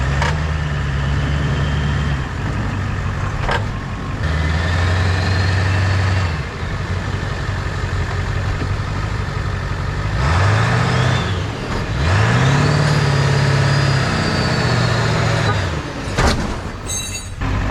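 A two-wheel-drive truck stuck in place revs its engine over and over in rising and falling surges, with voices talking over the motor noise.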